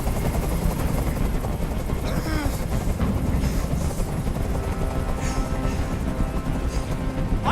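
A helicopter hovers very close in the video game Detroit: Become Human, its rotor roar a constant loud, dense wash throughout with no break.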